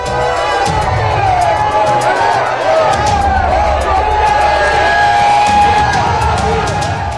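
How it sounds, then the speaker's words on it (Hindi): Huge crowd cheering and shouting at Prime Minister Modi's evening road show in Malkajgiri, a constant loud roar of many voices with whoops and whistles, steady throughout with no pauses. "प्रधानमंत्री ने रोड शो किया तो उन्हें देखने के लिए जबरदस्त भीड़ उमड़ी।"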